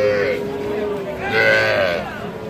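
A young bull calf bleats at a cattle market. Its calls are drawn out and come twice, loud and close over constant crowd chatter, with people talking nearby.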